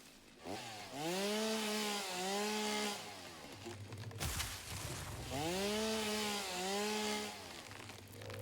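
Chainsaw in the Satisfactory video game cutting in two long revving bursts, each rising to a steady high whine before falling back to a low idle, separated by a brief crunching clatter, with no talk.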